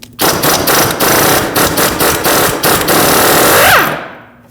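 Pneumatic impact wrench spinning off a 19mm nut on the front lower control arm of a 2006-2015 Lexus IS250, a loud rapid hammering burst in several pulses, ending with a rising whine as the nut spins free.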